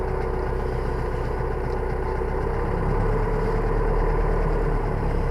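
A tractor engine runs steadily while potatoes are planted by hand in a field, a loud continuous low rumble that swells a little partway through, with no talking.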